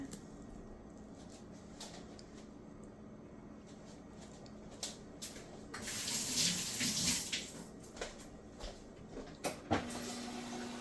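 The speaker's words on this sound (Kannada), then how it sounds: "ಮಿಕ್ಸಿ ಮಾಡಬೇಕು ಸ್ವಲ್ಪ ನೀರು ಹಾಕ್ತೀನಿ" Water streams from a tap and splashes into a mixer jar, growing louder midway, with small clinks and knocks around it.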